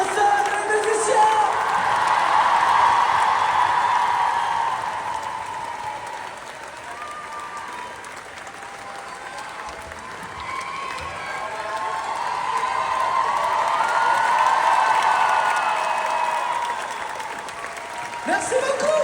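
A concert audience at an outdoor show in Lille applauding and cheering for dancers and musicians, sustained dense clapping with whoops that dips midway and then swells again, with some voices mixed in.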